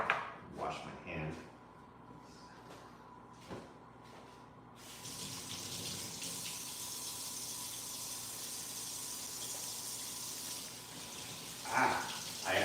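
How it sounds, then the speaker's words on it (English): Someone washes their hands under a running kitchen tap during chuck roast prep, a steady close rush of water that starts partway through after some earlier talk and a few light knocks. "Wash my hand."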